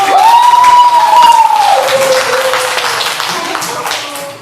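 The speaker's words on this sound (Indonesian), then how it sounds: "Iya, tepuk tangan buat Bayu." A primary school class applauding a pupil named Bayu, a brief burst of clapping close by that fades over a few seconds while a voice rings out over it.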